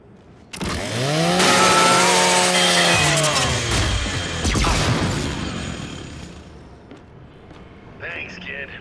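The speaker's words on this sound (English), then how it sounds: "Just use your Lancer's chainsaw." The Lancer chainsaw in Gears 5 revs up loud and close, with a whining motor pitch that rises and then falls, then grinds and fades out over several seconds.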